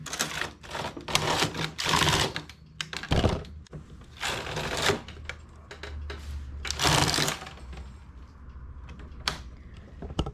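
A knitting machine set for thick wool clatters through rows, its carriage making repeated loud rattling sweeps of a second or two each. Short pauses separate the passes, and no one speaks.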